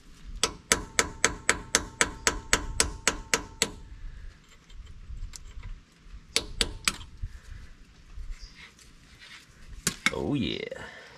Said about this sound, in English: So I started tapping at it with this chisel or punch